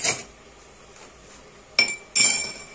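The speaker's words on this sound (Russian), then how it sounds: "Ставим туда ложку," A metal spoon set into a one-litre glass jar for brewing tea gives two bright, ringing clinks close by, separated by a quiet pause, each tinkle decaying over a fraction of a second.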